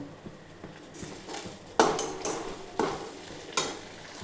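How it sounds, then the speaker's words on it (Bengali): Ground cumin, coriander, Kashmiri chilli powder and salt are stirred and fried in a pan for a paneer dish, with soft sizzling under repeated scraping strokes of a spoon against the metal. "এটা ভালো করে ভেজে নিই"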